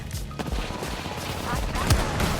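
Video game firefight with enemies shooting at the player, a continuous dense rattle of gunfire and impacts with a low rumbling undertone, steady and loud throughout.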